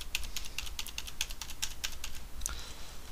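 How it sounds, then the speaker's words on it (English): Rapid clicky keystrokes tap repeatedly on a nearby keyboard in an uneven rhythm over a faint background hum. "You can hear me tapping the key."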